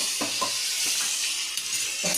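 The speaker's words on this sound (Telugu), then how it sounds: "టమాటాలు వేసిన తర్వాత ఫ్రై అవుతుంది" Tomatoes fry in a pan for chutney, giving a steady, close hiss of sizzling oil broken by a few soft stirring scrapes.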